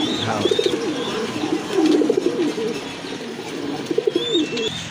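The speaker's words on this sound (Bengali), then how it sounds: "মাশাল্লাহ আরেক জোড়া কোয়ালিটি ফুল কবুতর দেখেন" Pigeons of a fancy imported breed cooing in a loft, several rolling coo phrases repeating every second or two, near and moderate in volume, with a few faint chirps above them.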